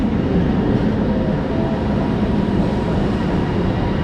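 A steady, loud rumbling roar of a train pulling into a station close by in Kuala Lumpur, constant throughout with no voices.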